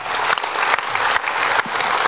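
Audience applause at a women's club New Year show, a steady dense wash of clapping that fills the whole stretch without a break, loud and close, with no talk over it.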